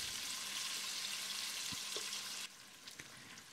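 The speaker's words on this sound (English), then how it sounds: "Fry the onions for 2 to 3 minutes." Sliced onions fry in a pot with whole spices for a curry, giving a steady, close, broadband sizzle that holds evenly for about two and a half seconds, then drops quieter with a few faint stirring clinks.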